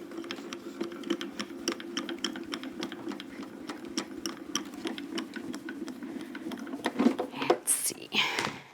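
Die cutting and embossing machine cranking a card through with dies and an embossing plate, giving a steady low mechanical hum with rapid clicking and ratcheting ticks, fairly close and moderate in volume.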